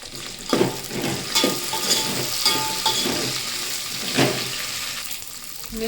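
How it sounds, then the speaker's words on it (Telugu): Green chillies frying in a pan with fresh curry leaves while tomato chutney is made: a steady close sizzle with occasional stirring scrapes, and no talking. "మిర్చి అయితే మంచిగా వేగినాయి ఫ్రెండ్స్."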